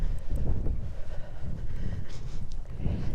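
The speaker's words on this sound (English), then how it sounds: "So I'm currently walking into the wind." Strong wind buffets the microphone during a walk near the medieval area of Wainfleet St Mary, a continuous, heavy low roar with gusting surges and no voices.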